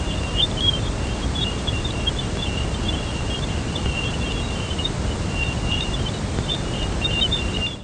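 Jupiter radio waves recorded by the Cassini spacecraft and converted to sound give a steady hissing wash with faint chirping, bird-like twitters running through it, constant in level and without any voice.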